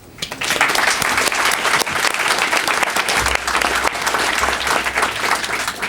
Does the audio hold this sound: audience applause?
yes